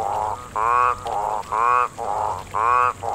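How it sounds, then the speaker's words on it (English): Toads packed into a pond in a mating frenzy call loudly and close, their croaking trills pulsing in a regular alternating rhythm of three strong bursts between softer ones. "a pond packed with toads, and they were in full mating frenzy"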